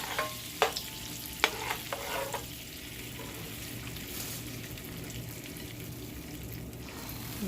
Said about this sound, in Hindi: फिर मैं इसमें सेवइयाँ भून कर दूँगी